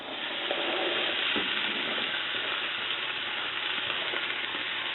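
Pancetta, garlic and vegetables for minestrone soup frying in hot oil, a steady, dense sizzle with crackling throughout, close up and fairly loud, with no talking.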